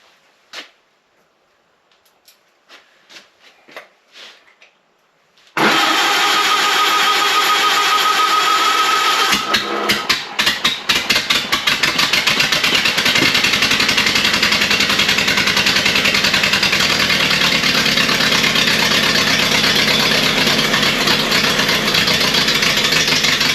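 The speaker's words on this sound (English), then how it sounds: "let's give it a try and see if it runs better with this carburetor" A junkyard Ford Model A engine with a new carburetor cranks a few times, then catches at about five seconds and runs loudly and steadily, settling into a continuous rough idle with no talking.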